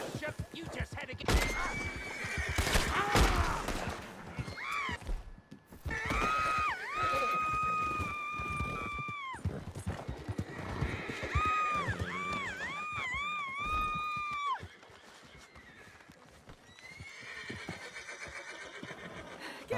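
A horse neighs repeatedly in long, wavering whinnies in the video game Red Dead Redemption 2, loud and close, with some crashing noises early on and quieter sounds after.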